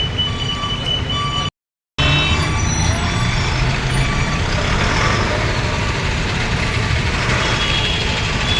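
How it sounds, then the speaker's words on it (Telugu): A bus pulls up on a road, its engine rumbling steadily with a hiss of air and repeating beeps over the traffic noise, broken by one brief gap of silence. "చూస్తున్నారు బస్సు అయితే వస్తూ ఉన్నాయి."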